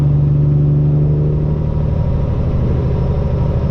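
A custom Peterbilt truck with straight pipes and an 18-speed transmission cruises steadily, its engine a loud, constant low rumble with a brief tonal hum early on that settles into an even drone.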